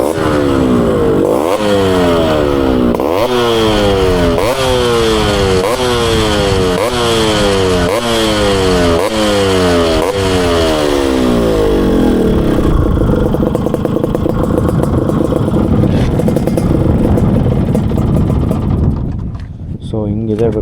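A Yamaha RX two-stroke motorcycle with an expansion chamber exhaust revs loudly and repeatedly, each blip rising and falling in a steady rhythm, before settling into a rough, sustained high-rev drone that drops off at the end.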